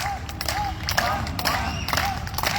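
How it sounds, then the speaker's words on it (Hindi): A group of people claps hands in loose, continuous applause, several overlapping claps at once, with a voice speaking over them and a murmur of crowd noise. "आवाज़ सुनाई देती है ताली की और ताली बजनी शुरू हो जाती है"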